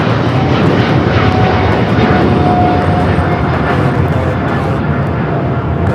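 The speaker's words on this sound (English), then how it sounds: "This is American Airlines 134 Papa taking off to London Heathrow on the 777-300ER" An American Airlines Boeing 777-300ER takes off at LAX, its engines producing a loud, sustained roar that holds steady and close for the whole stretch.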